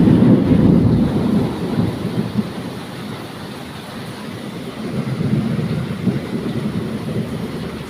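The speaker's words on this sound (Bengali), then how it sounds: "মেঘের গর্জনটা শুনতে পেলে আর সাথে ঝড় বৃষ্টির আওয়াজ" Deep thunder rumbles under a steady wash of stormy rain, loud at first, easing slightly midway, then building again, with no voices.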